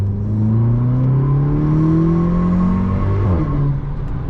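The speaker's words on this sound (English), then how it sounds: "we'll do a third gear pull" Stage 1 tuned VW Polo GTI pulling hard through third gear, its engine note climbing steadily in a loud, continuous rising drone heard from inside the car, with a brief dip near the end as throttle eases.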